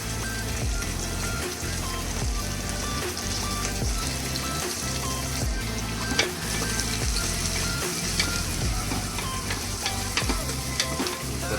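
Onions fry in hot oil in a steady, dense sizzle, close and fairly loud throughout, with occasional faint stirring clicks.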